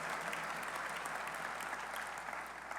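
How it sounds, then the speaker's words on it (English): Audience at a university football coach's introductory press conference gives a round of applause, a dense, even burst of many hands clapping throughout, with no voices over it. "Give them a round of applause."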